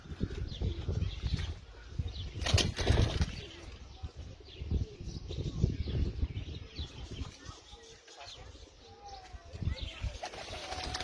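Pigeons coo and flap their wings on a rooftop at a pigeon-flying championship, soft throaty calls and brief wingbeat bursts mixed with background chatter and voices.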